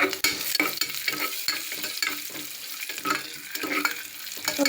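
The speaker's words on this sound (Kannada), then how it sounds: "ಸ್ವಲ್ಪ ಫ್ರೈ ಮಾಡೋಣ" Raisins, cashews and cardamom fry in hot oil in a pressure cooker, crackling and sizzling steadily up close while a spoon stirs and scrapes through them.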